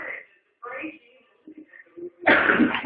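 A single sharp, loud sneeze bursts out at the end, after a few moments of indistinct talking and small sounds from people nearby.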